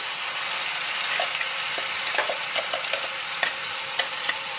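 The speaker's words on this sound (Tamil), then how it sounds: "ஃபஸ்ட்டு மசாலாவை நல்லா வதக்கணும்." Steady frying sizzle of masala spices sautéing in hot oil in a pan on low flame, a continuous hiss with occasional small crackles and pops throughout.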